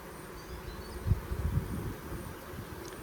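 Honeybees hum inside a hive holding about six frames of bees, a low steady drone that swells briefly in the middle before settling back to a soft, continuous buzz.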